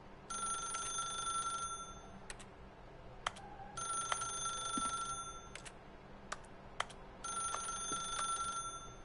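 A telephone rings in bursts in The Stanley Parable video game, three long electronic ring sequences separated by pauses, with faint sharp clicks between them and no talking.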